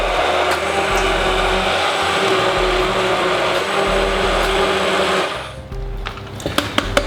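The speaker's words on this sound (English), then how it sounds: "that's what the stick blender does. It's got a little blade which spins around at great speed" A loud, steady motorized whirring of a stick blender blending soup churns on for about five seconds, then cuts out, leaving a few light clinks and knocks.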